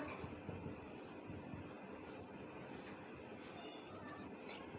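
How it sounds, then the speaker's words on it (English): Small birds twitter in short, high chirping bursts, a few separate calls scattered over a faint, steady background hiss, fairly distant and quiet. "The birds twitter"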